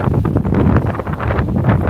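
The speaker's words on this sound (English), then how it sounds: "Oh yeah, more wind." Strong wind buffeting an outdoor camera microphone by the water in Kansas, a loud continuous low rumble with gusty fluctuations throughout.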